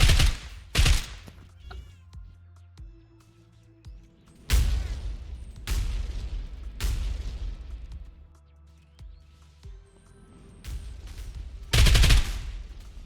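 Gunfire in the video game Cat Warfare: several sharp bursts of shots, loud and close, separated by quieter stretches of in-game sound.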